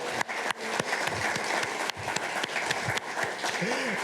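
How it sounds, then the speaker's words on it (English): A banquet audience gives a sustained round of applause, dense and steady with sharp individual claps standing out over several seconds. "giving her one huge, of course, round of applause"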